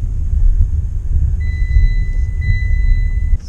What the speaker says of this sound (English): And listen to the chimes.